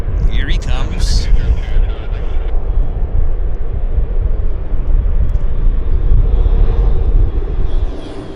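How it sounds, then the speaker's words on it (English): A medevac Beechcraft King Air turboprop passes at Vancouver airport with a loud, steady engine roar and a broad rumbling wash that holds throughout, close and dominant. "No, it's a King Air. It's a Medevac King Air."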